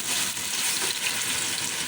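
Spice paste hitting hot oil in a cooking pot for beef kofta curry, giving a loud, dense, continuous sizzle throughout with no talk.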